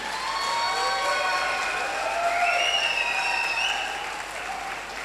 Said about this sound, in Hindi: तो एक बार अपने लिए जोरदार ताली, जबरदस्त ताली बजाइए।